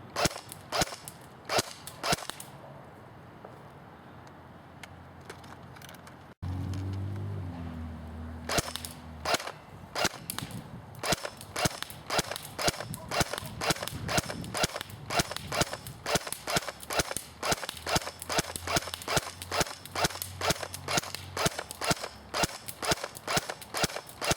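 JG 608 Mk36c airsoft AEG rifle firing after a hop-up adjustment, a long series of sharp, evenly spaced single shots, close and loud, with a brief motor whir partway through and a short gap early on.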